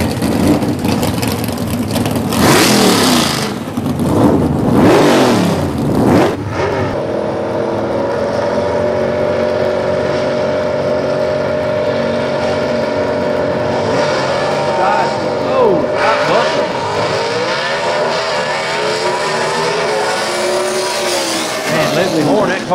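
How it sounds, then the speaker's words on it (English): Gasser drag race car accelerating hard down a drag strip at a Southeast Gassers race in London, Kentucky, its loud engine roar climbing through the gears, close and dominant throughout, with an announcer talking over it. "That car's getting down the racetrack pretty well."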